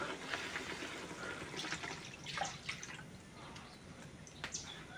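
Water poured into a cooking pan while making an Odia chuna fish besar curry, a soft continuous trickle and splash heard close up at low level, with a few brighter drips standing out.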